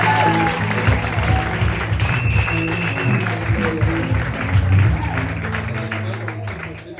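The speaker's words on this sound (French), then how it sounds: "Est-ce qu'on peut acclamer encore?" A church congregation at a Sunday service claps in sustained, dense applause for several seconds, with some voices mixed in, before the clapping gradually tapers off.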